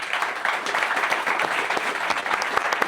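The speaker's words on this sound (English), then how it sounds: "I think an extra clap of hands for him" A live audience at a trading mastermind community event applauds steadily, a dense wash of many hands clapping with no talk over it.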